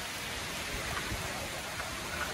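Rain falls steadily as a dense, even hiss of drops across the whole clip, soft and constant with no talking.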